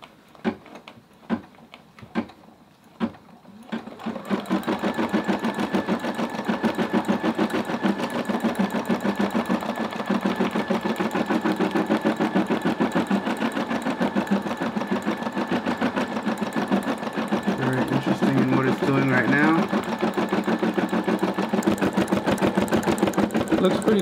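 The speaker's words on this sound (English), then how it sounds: "It's gonna take this about 10 minutes to do. We're gonna do the red first. So let's start embroidering" An embroidery machine stitching the red part of a design, a steady fast rhythmic chatter that runs loud and continuous after a few sparse clicks at the start, with faint speech now and then underneath.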